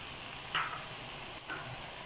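Dal mash fries in a pan with spices, giving a steady, soft sizzle with faint stirring scrapes and no talking.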